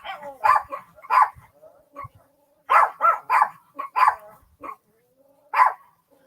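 Dogs barking at a campground, including a small white dog, in repeated loud, close barks that come in clusters separated by brief pauses, with faint voices in the background.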